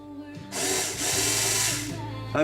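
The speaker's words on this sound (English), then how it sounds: "Threading your screws into the wood is what it does." A power drill drives screws into wood while building an AR-pattern rifle, a steady whirring run of about two seconds, close and loud, with a brief rise at the end.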